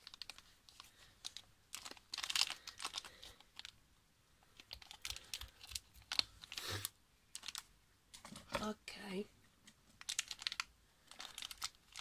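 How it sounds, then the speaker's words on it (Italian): A small plastic blind bag of Lost Kitties toys being torn open up close, with irregular crinkling and sharp tearing bursts scattered through an otherwise quiet stretch. "apriamo il sacchettino e vediamo che cosa troveremo"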